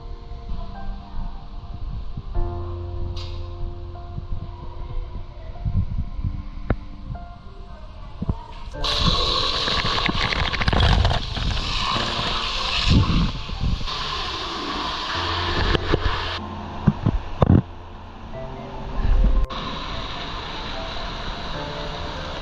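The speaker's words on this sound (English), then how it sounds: "There's an ice machine making ice up there, and then it's going down" A hotel ice machine churns out ice: a steady low hum and throb with rattling, clattering bursts as ice drops, continuing for over twenty seconds with occasional louder knocks.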